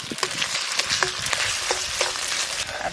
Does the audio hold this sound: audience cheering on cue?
no